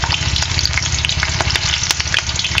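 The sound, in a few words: whole red chillies frying in oil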